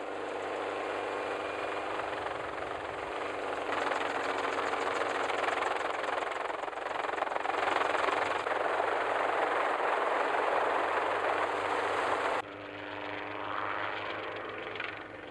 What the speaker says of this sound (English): Helicopter mustering has revolutionised the industry.